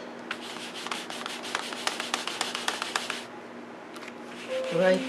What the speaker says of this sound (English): A little Stampin' Mist on the one side. Scrub it on one side.